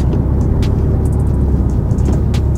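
A Porsche Cayman 718 driving on freshly installed Hawk brake pads being bedded in, a loud steady road and engine rumble with a few brief high squeals and chirps, no talk.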